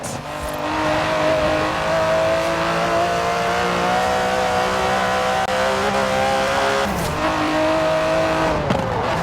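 An Aston Martin DB11 in Forza Horizon 4 holds a loud, steady engine drone, then shifts down near the end with a brief dip in revs and a quick rise again. No voices.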